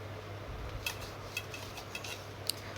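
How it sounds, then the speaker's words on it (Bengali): A knife cuts paneer for a curry in a village kitchen, making a handful of faint, separate taps against the board over a quiet background. "পনিরগুলো কেটে নিচ্ছি"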